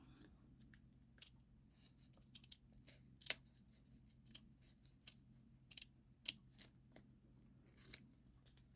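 Scissors snip through paper while a handmade journal is trimmed, a series of sharp, irregular close cuts over a steady low hum, with no talking.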